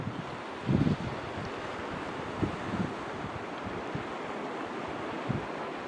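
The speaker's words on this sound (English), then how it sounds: "but for the sound of the waves" Waves breaking and washing over a rocky beach at St Monans on the Scottish coast, a soft continuous surf hiss with a few louder splashes, mixed with wind buffeting the microphone.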